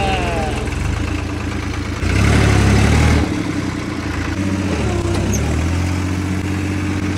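A New Holland 3630 tractor engine runs steadily at a mid-pitched idle with a low rumble, swelling briefly louder for about a second as it revs before settling back to a continuous drone.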